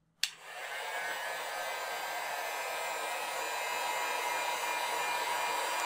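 Heat gun blowing steadily on heat-shrink tubing over a battery for a light-up wand, starting with a click and then a continuous, even, close whooshing roar with no talking.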